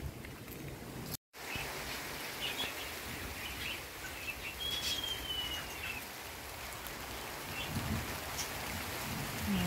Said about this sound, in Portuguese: Tá chegando a chuvinha.